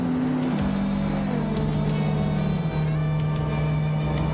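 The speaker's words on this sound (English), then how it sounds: "Naibe is driving a 1989 Alfa Romeo SZ, known for its sharp design and lightweight build" A 1989 Alfa Romeo SZ race car engine drones steadily at high revs while racing, its pitch dropping and shifting between gears, loud and continuous throughout.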